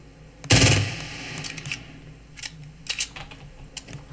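Gunfire in the video game Fortnite: one loud, short automatic burst, followed by a few fainter scattered shots and clicks over a quiet background.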